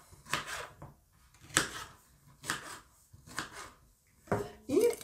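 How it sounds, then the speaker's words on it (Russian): A knife chops a bell pepper into pieces on a cutting board, giving five or six distinct, fairly close cuts at an uneven rhythm with quiet pauses between them. "разрезаем его, очищаем от внутренностей. Нарежем на кусочки."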